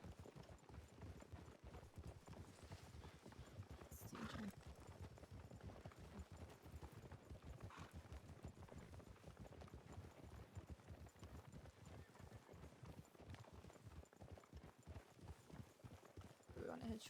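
Horses walking in a Red Dead Redemption 2 roleplay on a beach near a lighthouse: steady, quiet clip-clop of hooves throughout, with faint voices in the background.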